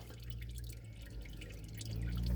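Engine oil drains from a 2023 Equinox during an oil and filter change, a faint, steady trickle and drip close by, with no talking.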